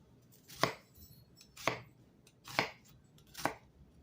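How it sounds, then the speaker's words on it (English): A sharp knife chopping onion for homemade beef stew: four crisp, evenly spaced chops on a board, close and clear, with quiet between strikes. "so I cut up a little bit more onion"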